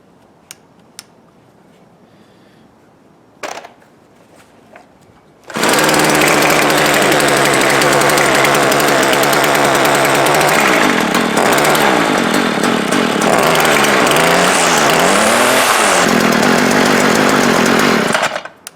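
Small engine string trimmer, dirty and with a worn muffler, starting after a few faint clicks and then running loud and steady near by, with a rough vibrating buzz and a couple of throttle swells.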